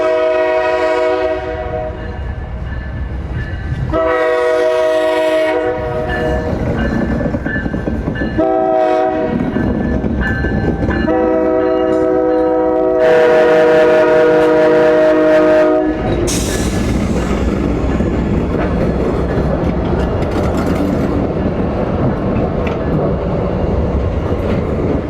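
A night passenger train on the Washington to Miami route rolls along steadily and sounds its horn in several loud, sustained blasts, with continuous rumbling wheel and rail noise underneath throughout.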